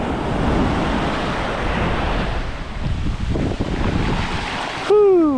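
Ocean waves surge and break on an Oahu beach in Hawaii, a steady loud wash of surf with wind buffeting the microphone throughout, ending in a brief harmonic tone.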